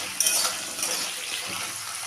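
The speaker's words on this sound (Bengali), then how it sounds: "আলুটাকে ঢাকা দিয়ে একটু ভেজে নেব।" Potato pieces fry in hot oil tempered with cumin seeds and a pinch of salt for an okra-potato curry, giving a close, steady hissing sizzle throughout with a few light utensil clinks and stirring scrapes, and no talking.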